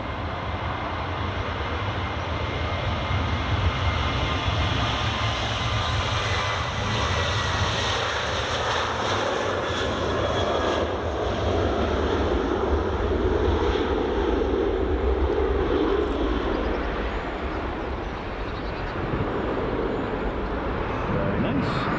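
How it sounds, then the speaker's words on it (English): Jet2 holidays airliner taxiing out on the runway 24 side of Edinburgh Airport in the early morning, a steady broad jet-engine roar and whine held at moderate distance throughout, with a voice talking faintly in places. "that's a Jet2 holidays just taxiing out now, folks"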